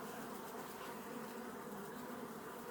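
Honey bees hum steadily during a hive inspection, a close, dense, continuous buzz from many insects with no voices over it.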